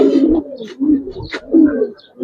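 Giribaz pigeons coo close up in a loud, throaty series of low rolling calls with brief pauses between them, and no talk is heard.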